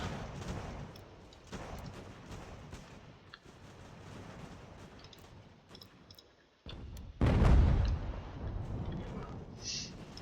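Artillery fire and gunfire in Ultimate General: American Revolution, a large battle for Boston, rumbling as a dense stream of distant shots and booms with a heavier, louder blast near the end.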